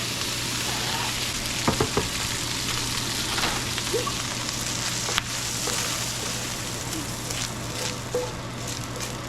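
Bacon frying and sizzling in a pan as it crisps, a steady dense crackle with occasional sharper pops, heard alone and close, with a range-hood vent running underneath.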